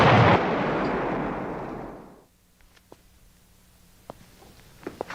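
In a 1964 film, a loud roaring explosion dies away over about two seconds, leaving near silence broken only by a few faint clicks and scattered pops.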